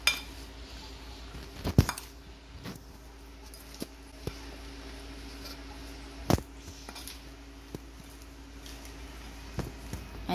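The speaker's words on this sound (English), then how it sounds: "Mix all the ingredients together very well." Moong sprout salad ingredients being stirred in a bowl with a spoon, a few sharp clinks of utensil against the bowl spaced irregularly over faint soft scraping, close and fairly quiet, no talking.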